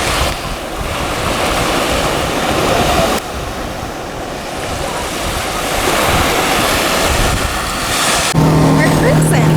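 Boat cruising across open sea in the Galapagos, with steady broadband rush of wind, waves and engine wash throughout, a brief shift partway through and a low steady hum near the end.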